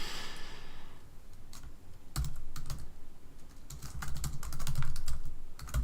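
Rapid typing on a computer keyboard during accounting data entry, with clusters of close, crisp key clicks in quick bursts over a low room hum, with no speech.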